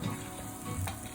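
Spices sizzle and fry in hot oil in a pan for aloo bhaji, with hing, turmeric, dry coriander, amchur and red chilli added; a steady close crackle with a few stirring scrapes, no talking.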